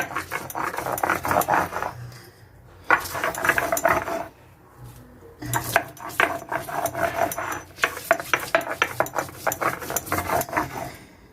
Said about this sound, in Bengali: এবারে হালকা করে বেটে নেওয়া হবে রাফলি বেটে নেওয়া হচ্ছে